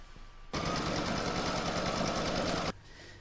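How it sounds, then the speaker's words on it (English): An embroidery machine stitching a second colour onto taped fabric in the hoop runs in a fast, even mechanical rattle for about two seconds, starting and stopping abruptly, with no talking. "I will now stitch colour 2 again"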